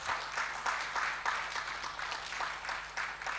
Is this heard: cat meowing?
no